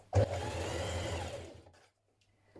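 A sewing machine stitches a dress hem in one brief, fast whirring burst of about one and a half seconds, close and clear, which then stops into near silence.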